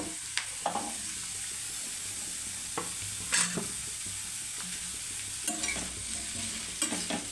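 Radish pieces fry in oil in a pan, a continuous sizzle with scattered scraping stirs and clinks of a spatula, close and steady, without any talking.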